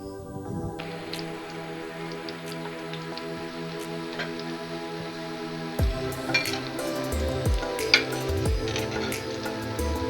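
Bread keema cutlet rolls frying in hot oil in a pan, a steady crackling sizzle with scattered pops that grows a little louder and busier partway through, with no talking.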